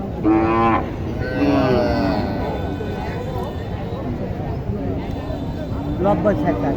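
A cow moos at a cattle market selling Sahiwal and local dairy cows with calves in Naogaon, loud and close, with people talking over the bustle.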